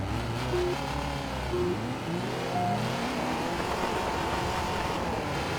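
Unlimited VW race car engines rev in the video game Baja Edge of Control, with several buzzing engine notes rising and falling together in a continuous, moderately loud wash.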